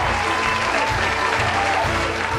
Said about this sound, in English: applause thunders forth over the internet as the members of the cast appear to take their bows